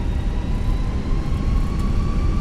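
Airliner jet engines in Microsoft Flight Simulator spooling up as throttle is advanced for takeoff, a steady low rumble with a thin high whine running beneath it, no talk.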